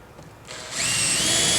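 Power drill driving a fastener through a metal roof rake roof-to-wall flashing and Z-bar during an Allmet roof install, a loud close whine that starts after a brief quiet moment and holds steady, no voices.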